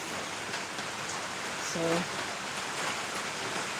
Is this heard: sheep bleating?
no